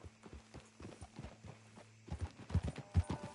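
A horse ridden in Red Dead Redemption 2 produces a quick, even clip-clop of hooves close by, and the hoofbeats grow louder and heavier toward the end, with no talking.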